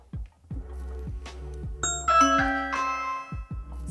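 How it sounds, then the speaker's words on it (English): A soft electronic ding-dong chime rings out from an Amazon Echo Show 5 as a Ring doorbell is pressed, followed by a brighter multi-tone melodic chime, over a low rhythmic background hum; no talking. "I will start by pressing the doorbell."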